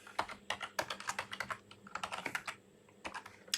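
Computer code being typed on a keyboard, rapid irregular clicking keystrokes in close bursts with brief pauses.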